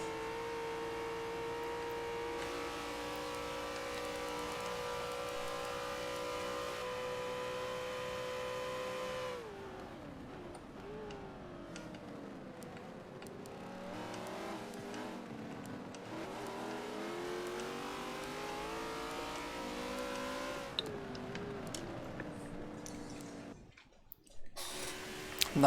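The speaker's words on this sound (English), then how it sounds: "NWR Jonesy, side by side here. But for now, NWR Jonesy stays in front." Race cars in a sim racing endurance game at Indianapolis, engines droning and revving continuously with shifting pitch as cars run side by side, loud throughout without talk.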